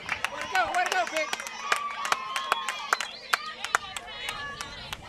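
At a girls' high school softball game, a crowd cheers and claps in scattered bursts, sharp handclaps popping over shouting voices from the stands.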